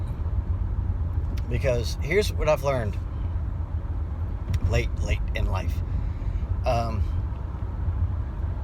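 Steady low road rumble and engine drone fill a car cabin while driving home in the evening, with someone talking close to the mic over the noise.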